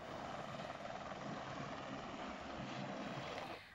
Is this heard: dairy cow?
no